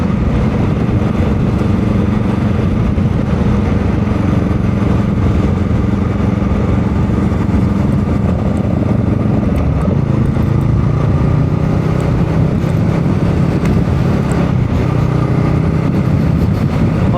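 A 2023 Honda Rebel 500 motorcycle engine drones steadily and loud throughout while riding, with a continuous low rumble and wind noise and no talk.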